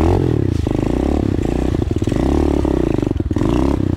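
Small SSR 125 or Monster Joe 125 pit bike engine revving hard as the bike spins around on a dirt trail, a loud, close, buzzing drone that rises and falls in repeated surges.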